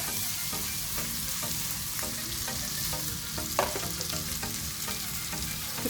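Paneer cubes fry and sizzle in a pan over a high flame for butter masala, a steady loud crackle broken by repeated clinks and scrapes as the pieces are tossed and stirred.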